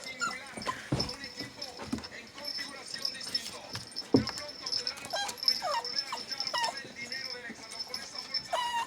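Dachshunds whimper and give short, high yips in a scattered, uneven run. A few sharper yelps stand out near the start and around the middle, with people talking nearby throughout.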